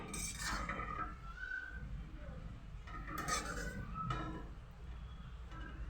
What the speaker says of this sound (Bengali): এবার আমি একটু নাড়াচাড়া করে নিচ্ছি